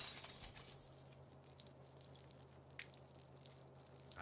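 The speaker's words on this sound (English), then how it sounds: "I hope those weren't the toxic chemicals I was just talking about that broke on the floor just now." Glass chemical bottles shatter on a floor in the South Park video game, a bright crash at the start followed by faint tinkling and dripping over a low steady hum.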